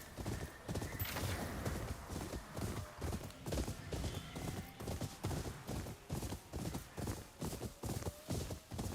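Steady clip-clop of horse hooves at a brisk walking rhythm in the video game Ghost of Yotei, with an occasional whinny, fairly close and continuous throughout.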